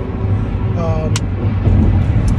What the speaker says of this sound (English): Wow, that truck was close.